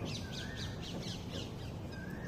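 Birds call in a garden with flowering hibiscus, a run of repeated harsh, crow-like caws heard faintly over a noisy outdoor background.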